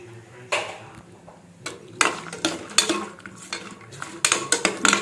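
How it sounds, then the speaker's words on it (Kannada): Metal utensil scraping and clinking against a pan in quick repeated strokes, with a faint sizzle underneath, close by and moderately loud. "ಗೋಡಂಬಿ ಹಾಕ್ಕೊತಾ ಇದ್ದೀನಿ, ಫ್ರೈ ಮಾಡ್ಕೊಳ್ಳೋಣ."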